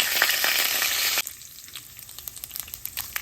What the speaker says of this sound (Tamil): கடுகு பெருஞ்சீரகம் வெந்தயம் தாளித்து கொள்ளுவோம் கருவேப்பிலை போட்டு கருவோம்